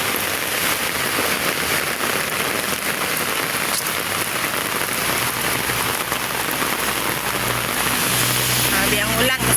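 A downpour of heavy rain drums steadily on nearby surfaces, a constant, full wash of close, loud patter that lasts the whole stretch.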